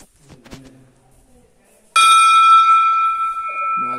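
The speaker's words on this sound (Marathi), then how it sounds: "इकडे ही घंटी." A temple bell in a village is struck once and rings out loud and close, its bright metallic tone sustaining and slowly fading; faint voices and movement come before the strike.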